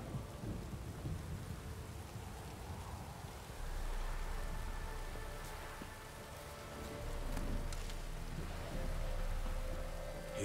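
A rainstorm in the game Witcher 3 brings steady rain with rolling low thunder that swells twice. Faint sharper sounds come through the downpour, and no one speaks.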